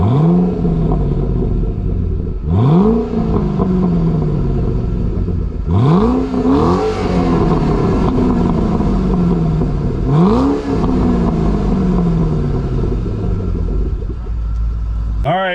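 A Mustang S197 GT500 with its stock exhaust, driven on the road, revs hard several times in a row, each loud rising roar easing back down before the next surge, over constant engine rumble.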